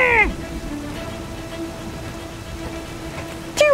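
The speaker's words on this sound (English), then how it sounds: "Too much rain!" Steady rain patters on a surface in a light, even wash, with a faint tonal hum underneath and brief whooshing cartoon-like sound effects at the start and end, inside a kids' pretend-play game.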